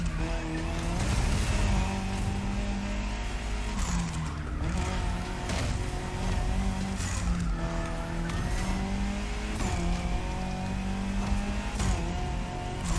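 A Citroen C3 rally car races flat out over a concrete rally stage in The Crew Motorfest, its engine roaring continuously with rising and falling revs through gear changes and occasional tire squeal, loud and steady throughout.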